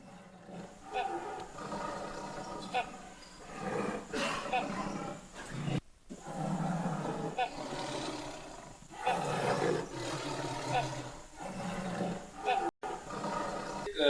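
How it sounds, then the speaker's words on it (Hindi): Tigress in Corbett Park's Garjiya tourism zone roaring aggressively near a safari vehicle, repeated deep roars and growls close by over a busy mix of sound, with people audible. "एक बाघिन जो है वो सफारी गाड़ी की तरफ आ रही है और थोड़ा एग्रेसिव मोड में है"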